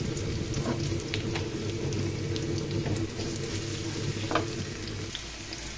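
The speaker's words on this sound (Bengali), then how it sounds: "পেঁয়াজ রসুনগুলো লাল লাল করে ভেজে নিয়েছি" Onion and garlic fry in oil with a steady, close sizzle and crackle throughout, with occasional soft stirring clicks and no voices.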